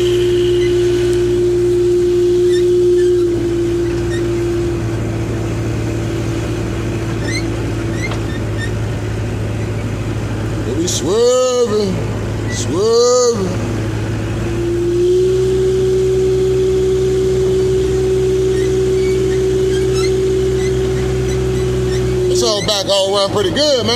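Old car nicknamed Betsy cruising down a road, a steady mid-pitched engine drone running throughout with a couple of brief rising whoops or horn-like swells partway through and a noisy burst near the end.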